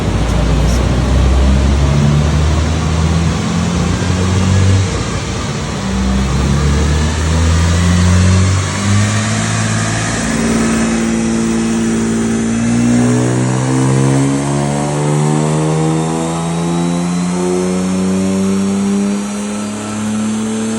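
A Jaguar engine fitted with a new stainless steel mandrel-bent exhaust system runs on a dyno, loud and close, revving up through a long rising pull, dropping back, then climbing steadily again with a strong harmonic exhaust drone.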